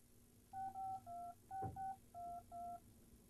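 A telephone is dialed with touch-tone keys, six or seven clear beeps in short evenly spaced bursts with a soft click partway through, heard alone in a quiet room in a film.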